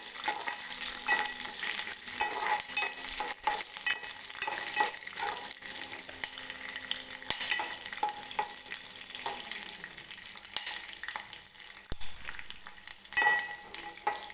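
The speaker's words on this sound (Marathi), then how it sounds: "हिरवी मिरची आणि शेंगदाणे मी हलकेसे भाजून घेतलेले आहेत, खूप जास्त भाजलेले नाहीत." Green chillies and peanuts roast in a pan for coconut chutney, giving a continuous close sizzle and crackle with occasional light scrapes of stirring, with no speech.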